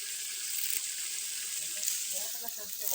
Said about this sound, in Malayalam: ഇനി നമുക്ക് കുറച്ച് കരിവേപ്പില കൊടുക്കും.